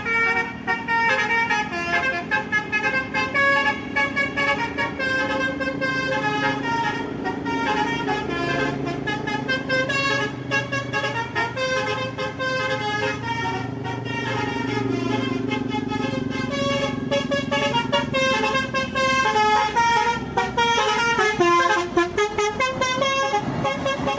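STJ Draka bus driving past with a loud, sustained musical horn playing a rising melody of tones, heard up close over steady engine noise throughout.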